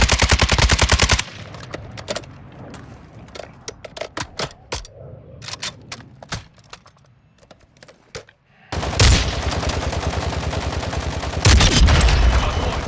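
Rapid automatic gunfire in a video game, loud sustained bursts at start and end with scattered single sharp shots and gaps between, no talk.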